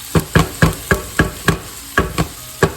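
Onions, garlic and tomatoes are stirred in a sautéing pan, a steady run of about ten separate scraping strokes landing roughly every quarter second, close and clear with no talk.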